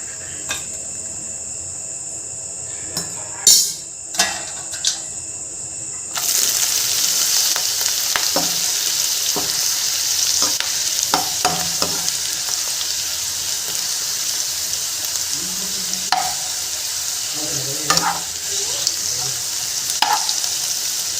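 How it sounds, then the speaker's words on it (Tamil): Cluster beans fry in a pan for a village-style kothavarai vathal, giving a steady sizzle that grows louder partway through, with occasional close scrapes and clinks of stirring. "நல்லா வறுபட்டுருச்சு"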